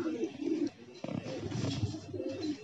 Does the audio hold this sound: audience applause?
no